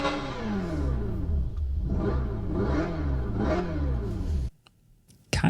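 Simulated engine sound from a Hyundai Ioniq 5N electric car, a synthetic revving drone that rises and falls in several swells for about four seconds, then cuts off abruptly.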